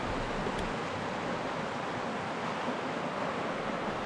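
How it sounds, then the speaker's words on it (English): Steady broadband roar of rushing river water in a desert setting, continuous and fairly loud with no breaks, heard alone without any talking. "it was our first chance to see some rushing water in the desert"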